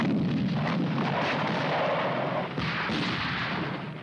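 Artillery rounds fire as a dense, rumbling barrage of booms from a distance, merging into a continuous roar for about four seconds with a brief dip partway through, with no voices.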